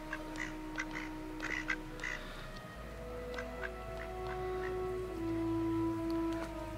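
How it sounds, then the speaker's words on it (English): Ducks quack in short repeated bursts, fairly close, at a water garden by an abbey, with a low steady hum and soft background noise underneath; no one speaks. "Very friendly ducks, aren't they?"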